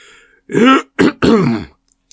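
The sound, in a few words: narrator imitating a donkey's impressive cough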